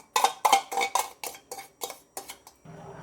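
Whisked yogurt being poured and mixed into chicken in a pot for chicken yakhni, with a run of about eight close metal spoon scrapes and clinks against the pot, ending in a softer low stir.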